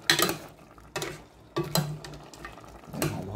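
A spoon scrapes and clacks in a pan of simmering chicken feet adobo with chicken liver, several distinct stirring bursts about a second apart over a soft sizzle, close and fairly quiet.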